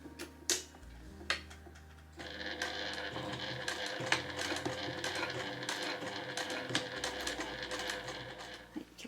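A machine stitches fabric with brown thread about 5 mm from the edge for a small cloth glasses case. After a few clicks, a steady mechanical whir and rattle runs continuously up close.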